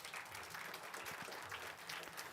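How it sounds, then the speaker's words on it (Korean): A church youth group gives encouraging applause, soft and steady continuous clapping from a crowd, faint and even throughout. "격려의 박수 부탁드립니다"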